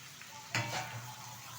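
Pieces of eggplant, flat beans, onion stalks and tomato frying in a pan and being stirred, a brief scrape of the spatula over a soft sizzle, close by.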